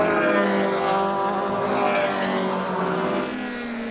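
Clubmans sports prototype race cars at Donington Park, engines screaming in a loud sustained high-pitched howl as they pass close by, the sound easing slightly toward the end.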